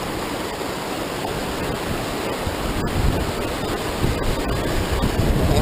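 Small waterfall coming down on a little mountain creek near Summit Lake, Idaho, a close, continuous rushing splash with steady broadband roar and a few faint clicks.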